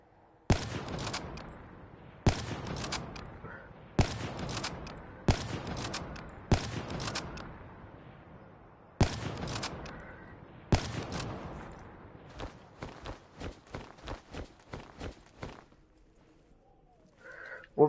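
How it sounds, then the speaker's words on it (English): Gunfire from a gun in a video game: loud, sharp bursts repeat every second or two, each trailing off into reverb, then quicker single shots crackle in a fast run before a quiet tail. "What fucking gun is that?"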